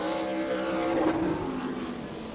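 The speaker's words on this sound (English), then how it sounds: "Drivers taking their final qualifying lap, see if they can pick up a little bit more time here" Super late model race cars rumble through a final qualifying lap at Auburndale, a steady, loud engine roar holding for a couple of seconds with a slight swell midway.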